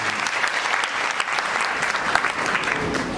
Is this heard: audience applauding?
yes